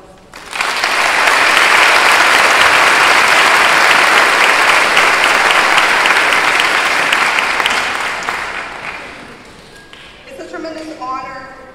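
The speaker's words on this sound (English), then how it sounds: "Please join me in giving them a round of applause." Graduation ceremony audience for the class of 2015 giving a long, loud round of applause that swells, holds for several seconds, then fades as speech resumes.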